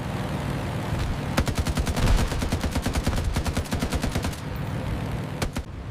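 Rapid machine-gun bursts from the rear gunner of a Douglas SBD-2 Dauntless, loud and close, with dense rattling volleys that stop and start over a steady engine roar.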